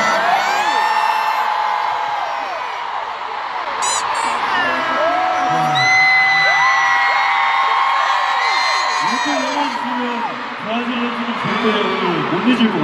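Large crowd at a K-pop concert in São Paulo screaming, whooping and cheering loudly and continuously, with high shrieks layered throughout.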